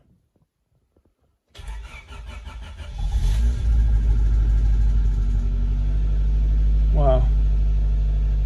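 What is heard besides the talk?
Honda Civic VTi EG DOHC VTEC engine starting and running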